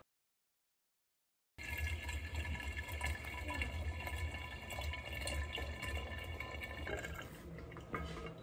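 Warm apple cider trickles through a very small funnel, a continuous close pouring and gurgling stream that starts abruptly after a brief silence and runs steadily, with faint background talk.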